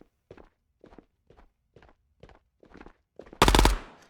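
A Luty gun firing in the video game Ghosts of Tabor, seven evenly spaced single shots about half a second apart, then one louder, longer burst to finish.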